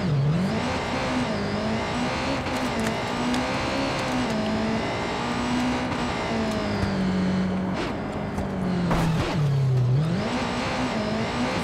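Car engine in Watch Dogs 2, a small hatchback resembling a Suzuki Swift, revving steadily with pitch rising and dipping, loud and close, with no talking.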